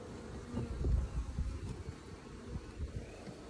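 Honeybees buzz close by around a hive being set up, a fairly quiet, continuous low drone that swells and fades unevenly, with no talking over it.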